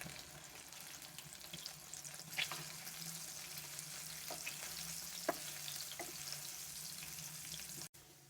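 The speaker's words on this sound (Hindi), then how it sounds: "अब इसमें मैं घर का बना हुआ पनीर डाल रही हूँ।" Homemade paneer, about 150 grams, sizzles in three to four spoonfuls of hot oil over a medium flame. The frying crackle is steady and faint, with a few light pops and scrapes and no voices.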